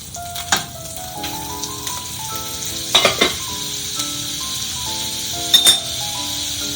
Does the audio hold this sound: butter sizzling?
yes